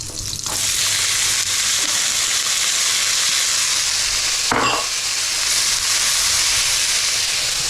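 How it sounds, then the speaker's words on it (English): Carrots, peppers and onions frying in sesame oil for prawn and chorizo fried rice, a loud continuous sizzle up close with a brief stirring scrape partway through. "that's all I'm going to cook the carrots and the peppers for, and I'm going to fry off the onions as well"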